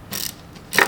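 A wrench ratchets during a valve adjustment on an Ohvale 160 motorcycle, giving a few quick, close clicking strokes within under a second, the last one sharper and louder.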